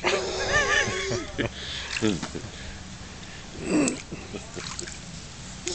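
Water sprays from the back of an inflatable whale pool toy hooked to a garden hose, a hissing splatter in short bursts beneath an adult talking nearby.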